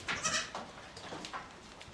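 Goats bleat several times in short, close calls, fairly quiet, with no talking.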